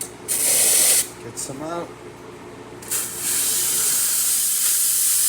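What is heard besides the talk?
espresso machine steam wand purging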